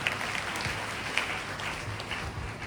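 Hands clapping in praise from a church congregation at a Sunday service, a steady dense wash of applause that continues without talk.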